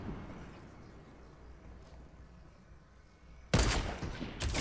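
Gunfire in the battle royale game Fortnite: after several seconds of quiet game background, a sudden loud burst of shots cracks in near the end, followed by further sharp bangs.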